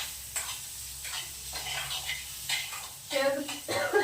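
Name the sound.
paneer frying in a pan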